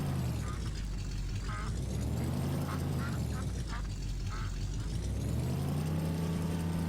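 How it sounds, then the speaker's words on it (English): Truck driving in a video game, a steady rumbling engine drone with rising and falling pitch as it moves, continuous and close. "I'm going to take my truck here."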